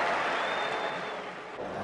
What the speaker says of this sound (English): He acknowledges the applause.